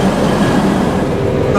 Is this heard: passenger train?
yes